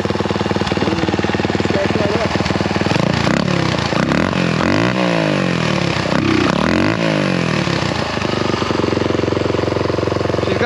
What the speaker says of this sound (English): 175 kicks at it, and she started right up